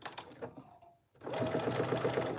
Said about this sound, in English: I got a little crazy on the back stitching.